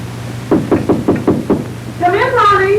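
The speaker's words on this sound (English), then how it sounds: "I knocked on the door and you invited me in" Five evenly spaced knocks on an apartment door in a 1940 thriller film, close and firm, followed by a voice speaking right after the last rap.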